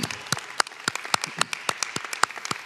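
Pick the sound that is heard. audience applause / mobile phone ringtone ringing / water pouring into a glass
audience applause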